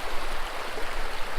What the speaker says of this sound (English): You got like water kind of pooling right underneath it, but it's also flowing really fast